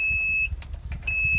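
The alarm on a 100 kVA generator sounds a high, steady electronic tone that stops briefly in the middle and then resumes, over a low engine-room hum.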